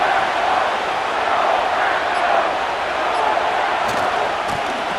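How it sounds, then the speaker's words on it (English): Steady crowd roar fills a virtual football stadium during a Lions vs Packers game in Madden 25, a continuous loud wash of cheering with no clear breaks. "This crowd into it now as we get to third down."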